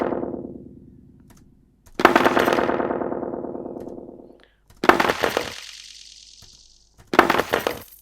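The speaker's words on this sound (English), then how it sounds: "take out the highs from your echo" Percussive hits processed through an echo effect in Logic Pro with the highs filtered out, three loud bursts each trailing off into darker, decaying repeats, with no talking.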